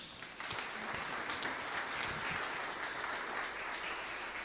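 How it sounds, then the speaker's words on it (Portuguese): A church congregation applauds for Jesus, a dense continuous wash of clapping from many hands that stays steady and fairly loud throughout, with no one speaking over it. "palmas para Jesus."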